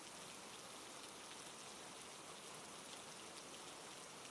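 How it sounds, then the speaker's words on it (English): Steady rain falls throughout, a dense even hiss of drops on surfaces with no pauses and no voices, soft and continuous from start to finish. "Let the sound of the rain wash over you"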